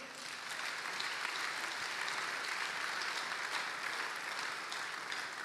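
A church congregation applauds, with steady, dense clapping from many hands that fills the room at a moderate distance and holds evenly throughout.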